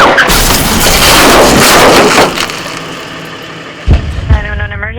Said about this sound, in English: There's been a crash.